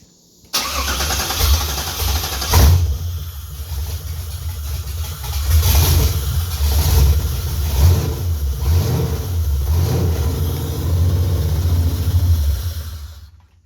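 A car engine fitted in a swap starts and runs, with a low steady rumble, a few revs rising and falling, and then a settled idle, loud and close with no talk over it.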